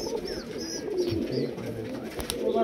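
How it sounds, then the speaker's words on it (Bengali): High flyer and low flyer pigeons give a run of low, rolling coos nearby, steady and overlapping, with occasional brief higher chirps and faint background noise. "সবই সুপার কোয়ালিটির পায়রা একটা"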